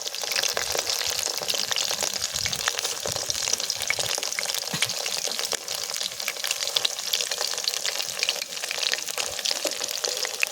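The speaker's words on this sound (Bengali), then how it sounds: "যা তো চলো একে একে সব ভাজবো" Chilli chicken frying in a pan outdoors in the Sonajhuri woods gives off a loud, dense, continuous sizzle with crackling spits and occasional stirring, close and without talk.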